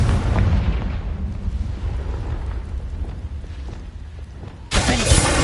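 Confringo fire spell exploding in the Hogwarts Legacy game, a sustained rumbling blast that trails off, then a sharp bright burst of crackling impact near the end, loud and without talk.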